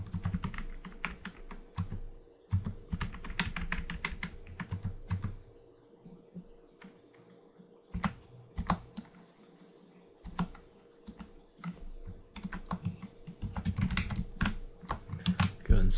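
Typing and tabbing on a computer keyboard while writing HTML for a Flask site: close, rapid bursts of key clicks with short pauses between runs, no talking.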